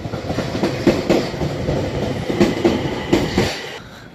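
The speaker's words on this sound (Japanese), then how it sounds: "最後の列車はこれですね。" A JR East Tohoku Main Line local train bound for Sendai rolls along with rhythmic clickety-clack of wheels over rail joints and a steady rumble heard from inside the car.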